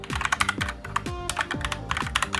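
Fast typing on a SteelSeries Apex M750 gaming keyboard with hovering keycaps, close and fairly loud, with crisp irregular key clacks in quick bursts and sharper thocks from heavier keys.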